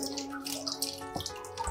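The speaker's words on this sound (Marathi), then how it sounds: "पायावर पाणी टाकायचं आहे" Water poured slowly from a mug over a foot makes a soft, faint splashing trickle, brief and close.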